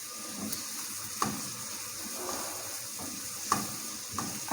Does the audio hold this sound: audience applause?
no